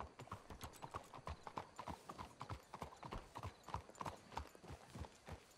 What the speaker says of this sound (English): Hitch your horses up ahead.